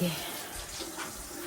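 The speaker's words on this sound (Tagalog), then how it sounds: "Lalagyan ko ng tubig." Water poured into a container at a home table for a baby's meal, a short soft splashing flow, moderately close, with household voices in the background.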